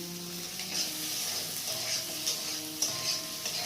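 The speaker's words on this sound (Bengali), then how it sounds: "আলুগুলো একটু কষিয়ে নিচ্ছি" Potatoes sautéing in spiced oil with turmeric and tomato in a pan, a steady soft sizzle with faint stirring clicks and scrapes, close and continuous, with no voices.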